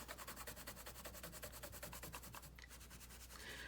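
A coloured pencil is sharpened by hand during a tea-stained colouring session, giving a steady, close scraping and rubbing with regular rhythmic strokes that continue throughout, fairly quiet with no talk.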